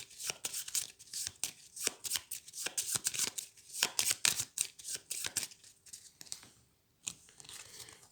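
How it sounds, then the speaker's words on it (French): A deck of board game cards being shuffled by hand, with repeated riffles and crisp flicking bursts in uneven clusters, close and fairly quiet, pausing briefly near the end. "Je vais donc pouvoir mélanger toutes celles-là pour en piocher une de plus."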